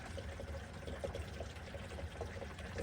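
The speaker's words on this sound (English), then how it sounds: "I can hear it filling." Water from a city water hose pours into a tank, a steady, rushing fill that runs evenly throughout with no one speaking.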